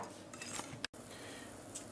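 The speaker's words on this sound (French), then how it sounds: "Ensuite on va blanchir les jaunes d'œufs et le sucre." Egg yolks and sugar being whisked together in a bowl, a faint, quick scraping and clinking of the whisk against the bowl with one short pause, no voices.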